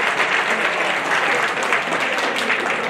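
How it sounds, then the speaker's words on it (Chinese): A room of attendees at a Taiwanese army officer academy class reunion meeting applauds a guest, a steady, dense burst of clapping from many hands filling the whole moment, with no voices over it. "我们鼓掌欢迎"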